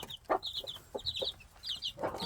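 Several chickens cluck softly close by, short irregular clucks and murmurs overlapping with a few higher-pitched chirps.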